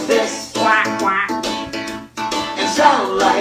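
A voice imitates a duck, repeating a rhythmic run of 'quack' calls during a preschool storytime, close and clear with short breaks between phrases.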